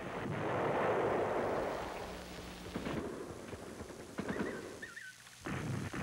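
Marine artillery guns fire from the Chu Lai base in Vietnam War footage, heavy rumbling booms and a roaring wash of blasts over a noisy, wind-buffeted archival track.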